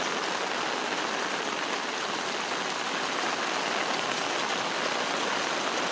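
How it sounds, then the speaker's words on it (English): Stormwater runoff floods over saturated ground at a historic property, a steady, loud broadband rush of running water continuing unbroken, with no voices. "there's still water flooding over that"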